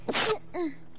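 A single quick sneeze, close and sharp, followed by a brief softer vocal sound, during a game chat session.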